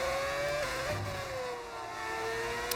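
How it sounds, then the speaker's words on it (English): Formula 1 cars racing at Belgium in an F1 video game, high whining engines holding a sustained, shifting pitch with a slight dip and recovery, steady and fairly faint. "This is how F1 cars have to sound."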